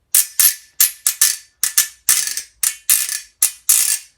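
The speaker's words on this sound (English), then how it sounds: "it's the ridges on this metal tie that'll give it its sound" Sewing thimbles scraped across the ridged metal of a zydeco tie washboard, producing about a dozen bright, loud metallic ratcheting rasps in a loose rhythm, each short scrape separated by brief gaps, close and alone.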